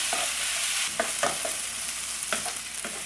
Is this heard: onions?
yes